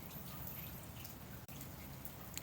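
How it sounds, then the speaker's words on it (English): Rain falls outdoors in a backyard, a steady faint hiss of drops with soft patters throughout, no voices. "They're over there playing in the rain right now."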